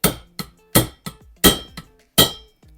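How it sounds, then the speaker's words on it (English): Hammer tapping a valve seal onto the valve guide of a Mitsubishi GTO engine during a rebuild, about seven sharp metallic taps in an uneven rhythm alternating harder and lighter, close and clear with short ringing decays. "And then using a hammer, give it a bit of a tap."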